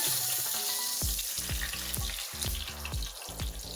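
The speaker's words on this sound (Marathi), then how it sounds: "छान असा तडका बसला असा आपण गरम करून घ्यायचंय." Cumin seeds and two dried red chilies sizzle loudly in hot oil for a tadka tempering. The hiss is steady and close, and a quick series of sharp crackles and pops cuts through it.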